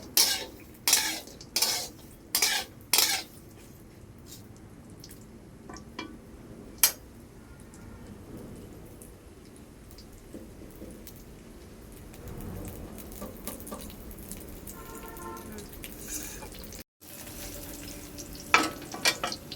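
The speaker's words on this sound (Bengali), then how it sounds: "এই যে আমগুলো রেখেছি মিষ্টি আচারের জন্য, আমটা দিয়ে দিলাম। ভালোভাবে নেড়ে নেব।" Mango pieces for sweet pickle are stirred in hot oil in a pan, opening with several loud spoon clanks against the metal, followed by a soft steady sizzle and occasional scrapes.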